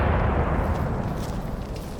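A Hotchkiss 2-pounder mountain gun fires outdoors, a loud, sustained booming rumble with no sharp onset, rolling on steadily to the end.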